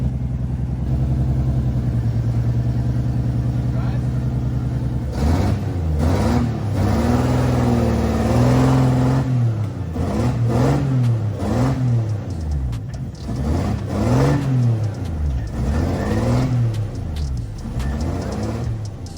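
A car with a swapped Toyota 1JZ engine runs unevenly at first, then drives off and revs repeatedly, loud and close, with the engine note rising and falling in several strong pulls.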